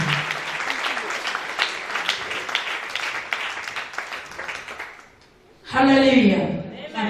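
A church congregation applauds for Jesus, with dense, loud clapping that fades out near the end before a voice begins speaking over a microphone.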